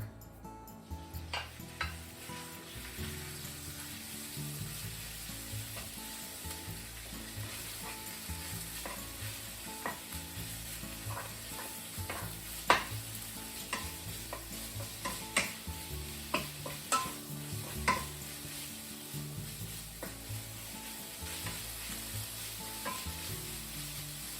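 Pork sizzles and fries steadily in sesame oil in a wok for pork rib daikon, with occasional stirring clinks and scrapes of a utensil against the pan, close and continuous, with no talking.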